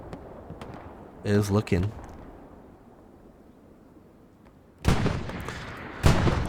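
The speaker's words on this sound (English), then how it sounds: "You can see the medium 75 is getting hit at Legrand." A Sherman medium 75 tank takes fire on the Utah Beach map of a video game, with two heavy, booming impacts near the end after a brief stretch of speech.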